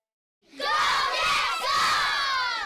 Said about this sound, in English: these students at Holy Cross School were cheering for the Jet right in front of them, Zach Bogosian.